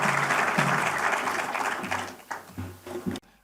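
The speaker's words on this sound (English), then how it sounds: "Please clap for the leadership of Cusco board." Applause from a cooperatives congress audience for the Cusco board leadership, a thick burst of clapping that thins toward the end, with low voices mixed in, before cutting off abruptly.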